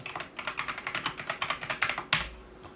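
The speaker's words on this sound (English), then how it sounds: "listen to this keyboard type" Someone types on a computer keyboard close to the mic, giving a steady run of crisp, evenly spaced clicks that ends in one louder key strike, with no voices.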